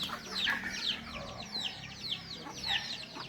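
Several chickens and chicks cluck and chirp in short repeated calls over a steady background murmur, fairly close by.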